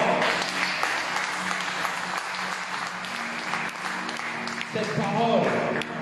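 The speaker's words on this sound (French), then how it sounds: "Acclame Jésus encore très fort." Church congregation at a Sunday service applauds steadily and loudly, a dense continuous clapping under a voice speaking over it, with a few cheers rising near the end.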